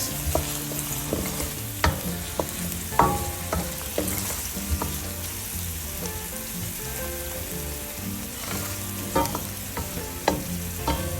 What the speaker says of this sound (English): Next goes the chili flakes and the garlic. Stir that a bit.